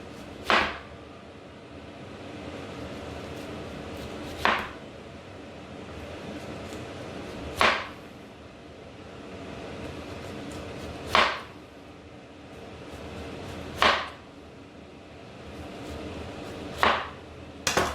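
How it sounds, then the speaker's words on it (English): A knife slicing a cleaned pineapple into rounds about one centimetre thick, each cut landing as a sharp, crisp chop roughly every three seconds, six in all, close and clear. "we're going to prepare the pineapple. So we're going to cut it into about 1 cm rounds"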